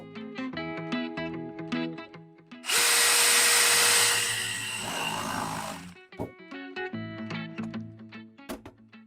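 A DeWALT DCD703 cordless drill fitted with an angle attachment whirs in one loud sustained burst of about three seconds, framed by tapping and clattering handling noises and brief short whirs.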